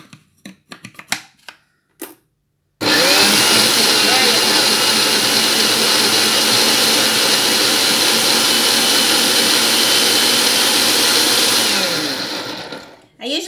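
Large kitchen blender whirring through walnut pesto, a loud, steady motor roar that runs for about ten seconds and then winds down, preceded by a few brief clicks and knocks as it is set up.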